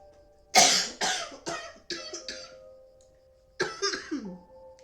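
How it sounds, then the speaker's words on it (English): A man coughs hard in a fit of several loud, harsh bursts close by, a pause, then another quick cluster of coughs with some throat clearing. "This cough is kicking my butt."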